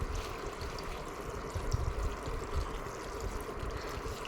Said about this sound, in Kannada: ಸೊ ಅದಕ್ಕೆ ನಾವು ಬೇಯೋದಕ್ಕೆ ಎಷ್ಟು ಬೇಕೋ ಅಷ್ಟು ನೀರನ್ನು ಹಾಕ್ಕೊಳ್ಳೋಣ.